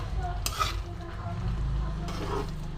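Mung dal being stirred in a pan with a ground paste of green cardamom and a small piece of cinnamon, giving a steady close scraping and gentle sizzle with a couple of louder spoon strokes, no talking.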